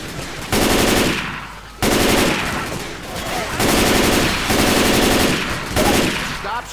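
Loud, close automatic gunfire from Left 4 Dead 2 on The Passing map, in long sustained bursts with brief breaks between volleys, filling the whole stretch.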